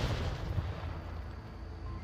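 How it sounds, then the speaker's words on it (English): A grenade goes off in a competitive multiplayer shooter match, a dense, rumbling blast that fills the whole moment with a sustained low roar and no talking over it. "A little bit late grenade there"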